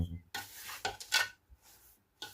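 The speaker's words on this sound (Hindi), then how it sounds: "अब इन सब चीज़ों को पहले हम मिक्स कर लेंगे अच्छे तरीके से।" Panjiri ingredients, including raisins, are stirred together in a bowl, producing short scraping and rustling strokes separated by brief pauses, close and fairly quiet with no speech.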